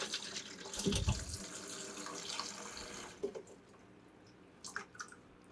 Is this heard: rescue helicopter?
no